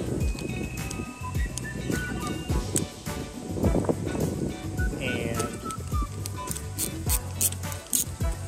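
Wind buffets the microphone in gusty rumbles while someone talks throughout, with clicks and handling noise in between.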